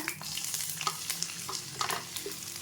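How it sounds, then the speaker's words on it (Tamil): Chopped onions and green chillies hit hot tempering oil for paneer butter masala, giving a close, continuous sizzle with scraping stir noises throughout and no talking. "நம்ம இப்போ கட் பண்ணி வச்சுருக்க ஆனியனும் பச்சை மிளகாவும் ஆட் பண்ணிக்கிறேங்க"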